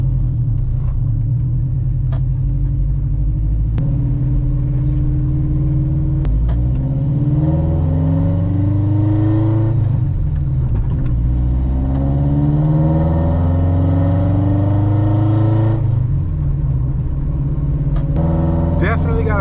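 A Honda Civic with a swapped B-series engine pulls away on its first drive, revving loud through several gears with rising and falling engine pitch and a heavy low rumble inside the cabin.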